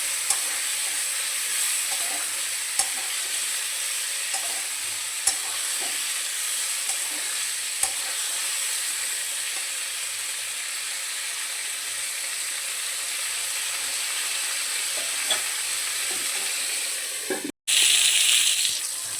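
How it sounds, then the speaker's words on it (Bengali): Steady hiss and crackle of pointed gourd frying in oil, with occasional utensil taps, then a brief cut and louder sizzle near the end. "পটলগুলোকে খুব লাল করে ভেজে নিতে হবে।"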